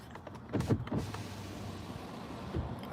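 A car's power window motor hums as the glass lowers, a low steady whine lasting a couple of seconds after a few soft thumps inside the cabin.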